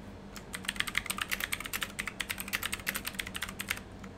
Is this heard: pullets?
no